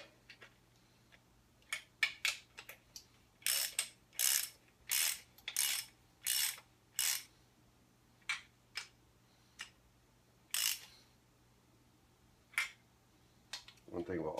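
A ratchet wrench snugging down bolts on a Ford 302 (5.0L) engine during a rebuild, giving quick close clicking bursts in an uneven series with short pauses, over a faint steady hum.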